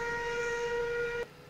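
Steam locomotive whistle in Farming Simulator 19, a steady tonal blast held for just over a second before cutting off abruptly, loud and close with no talk.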